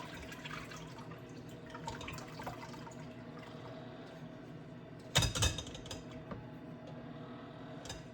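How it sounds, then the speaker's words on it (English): Dandelion mixture draining through a small colander, soft faint trickling and dripping throughout, broken by one brief louder clatter and splash partway through. "we're going to just drain it in this little colander"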